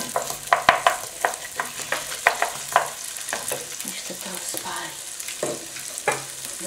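Sliced potatoes, patted dry on a towel, frying in oil with a steady crackling sizzle broken by repeated clattering stirs and scrapes of a utensil against the pan, close by with no talking.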